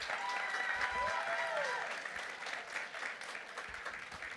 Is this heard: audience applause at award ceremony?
yes